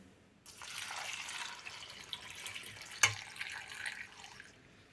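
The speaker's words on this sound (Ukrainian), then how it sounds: "І сюди заливаємо десь літру води." About a litre of water pours into a pot of rinsed millet for pumpkin porridge, a soft, steady splashing stream with one brief clink partway through.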